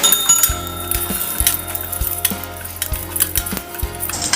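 Cinnamon, cloves, cardamom and stone flower frying in oil in a pan for Tamil egg curry: a loud close sizzle with metallic clinks and a steady run of low thumps, and no talking.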